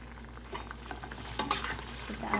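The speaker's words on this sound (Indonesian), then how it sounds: "kita aduk supaya rata." A spoon stirs cabbage and cucumber into a pot of boiling porridge, soft scraping and clinking strokes over a low bubbling simmer, close and fairly quiet.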